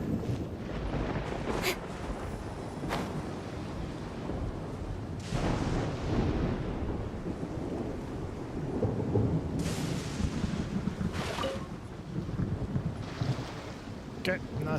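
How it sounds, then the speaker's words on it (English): Thunder rumbles and cracks repeatedly through a lightning storm in Genshin Impact, with steady rain and wind noise underneath and several sharp strikes spread across the stretch. "Thunder and lightning can be quite frightening"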